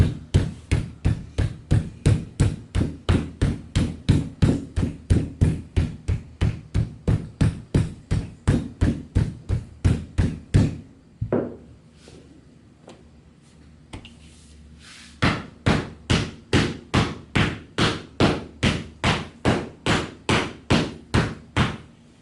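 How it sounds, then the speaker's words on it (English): A wooden mallet and paddle pound clay into a plaster mold to make tiles, a long run of loud, evenly spaced dull thuds, a pause filled with faint handling sounds, then a second series of steady blows. "the reason that I continue to pound it with both mallets, and with both the mallet and the paddle, is because I want to get all the detail out of the plaster mold"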